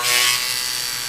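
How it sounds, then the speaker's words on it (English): A power saw cutting through old bolts on a front porch, a steady, harsh high-pitched grinding whine heard close and loud without pause. "saw to cut the bolts off."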